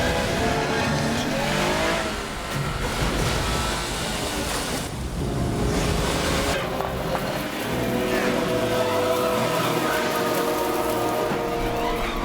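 An animated car engine revs and roars as it drives through a crashing tidal wave in a Studio Ghibli film, loud and continuous with rushing water and surf churning around it.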